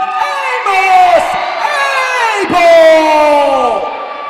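An arena crowd at a wrestling event cheers and yells for a 6-foot-8, 350-pound wrestler being introduced, a loud sustained roar with swelling whoops and shouts throughout, the crowd noise rising toward the middle.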